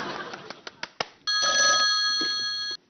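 An old-style telephone bell rings once, a long bright electric trill heard alone, following a few sharp knocks and clicks.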